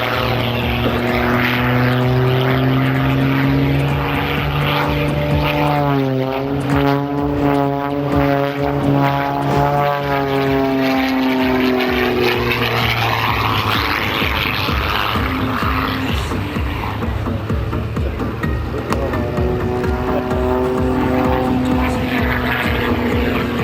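Military jet aircraft performing aerobatic stunts at the SIAF 2013 airshow roar overhead in a loud, continuous engine drone that sweeps and shifts in pitch as they pass, with a voice speaking faintly underneath.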